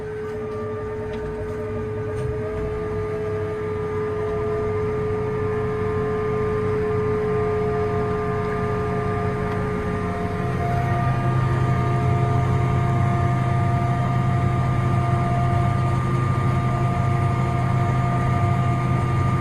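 John Deere tractor throttling up while laying 4-inch agricultural tile pipe in a field, a loud steady engine drone with a tonal whine that swells to a heavier roar about halfway through, with no talk.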